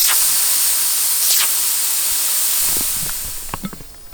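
Pressure cooker releasing steam, with a loud, steady close-up hiss that fades out and gives way to a few light clinks and knocks.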